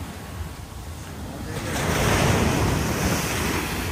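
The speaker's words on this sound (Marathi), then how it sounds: "अशात कशा लाटा येत इथं?" Sea waves surge and crash against the steps at a Goa beach, rising into a loud, rushing wash with wind noise on the microphone.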